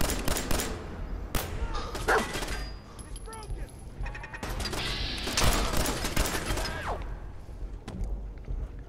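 Automated turret gunfire in Fallout 4 VR, bursts of shots and mechanical clatter mixed with crashes throughout, loud and close, with someone talking and shouting over it.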